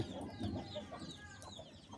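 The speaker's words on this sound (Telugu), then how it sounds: "కోడి పిల్లలు తీసింది." Chickens and newly hatched chicks clucking and peeping softly nearby, a quiet cluster of short calls and chirps with faint background noise and no talking.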